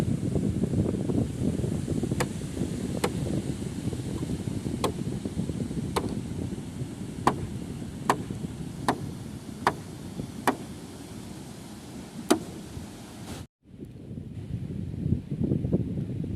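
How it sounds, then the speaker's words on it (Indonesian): Sea breeze blows steadily over the microphone at Pondok Ikan Bakar Karambia Ampek, a seaside grilled-fish eatery, a low continuous rumble broken by sharp, evenly spaced ticks and a brief dropout near the end. "kita makannya pun bisa sambil menikmati hembusan angin laut yang berhembus di sekitaran Pondok Ikan Bakar Karambiampe ini"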